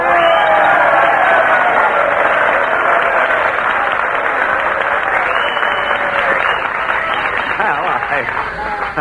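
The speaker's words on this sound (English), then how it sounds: "with a little encouragement and applause, we can get Jack Benny to come up here" A large live audience at a New Year's Eve radio broadcast from the Biltmore Bowl in 1942 breaks into loud, sustained applause with some cheering, the clapping dense and close for the whole stretch and slowly easing toward the end.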